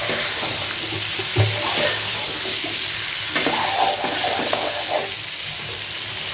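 Cucumber, potato, dried shrimp and onion sauté together in a pan, giving a steady close sizzle with occasional stirring scrapes throughout.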